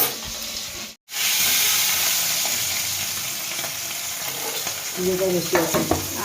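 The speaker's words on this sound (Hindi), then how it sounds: "इधर इतना फ्राई हो चुका है पॉम्फ्रेट फिश" Pomfret fish frying in a pan gives a steady, close sizzle after a brief cut near the start, then brighter crackling pops and spatter toward the end.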